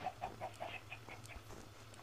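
Chickens in the Minecraft video game cluck in a quick run of short, soft notes, then a few scattered clucks follow, faint and without talk.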